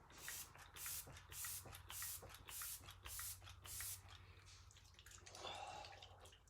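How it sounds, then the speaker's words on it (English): A quiet series of short, evenly spaced spray bursts, about seven or eight pumps of a fine mist spritzer, close up with a faint hum beneath. "go in with our refreshing spray"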